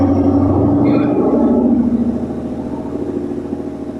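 A Ford car engine revs up from inside the vehicle, a loud rumbling drone that swells then settles into a steadier, slightly lower idle, with a voice briefly heard over it.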